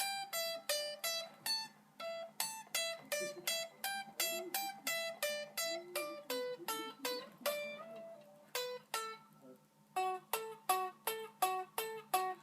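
A thin, quiet run of rapid tapped and pulled-off guitar notes repeats in a fast rhythmic cycle, with the bright, weak tone of an unamplified electric guitar.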